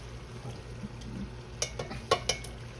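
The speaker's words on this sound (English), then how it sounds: "Get that all stirred up in there." Diced tomatoes stirred into meat sauce in a pan give a quiet, low bubbling with a few sharp spoon scrapes and clinks clustered toward the end.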